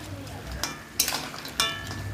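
Crab pieces, claws included, being stir-fried in a pan, with a low sizzle and a few scraping stirs and clinks of a spoon against the pan, close and steady.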